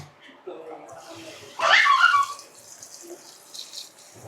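Water poured for washing, as during a neem-leaf skin treatment, comes as one louder splashing gush lasting under a second, with quieter voices and background sounds around it.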